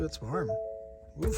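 Ford Edge Sport warning chime sounding because the car is not in park, a few steady electronic tones ringing under a man's speech.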